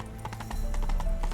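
Horse hooves galloping in The Witcher 3, a steady rapid clip-clop of hoofbeats close by, loud and continuous under a low rumble of game ambience.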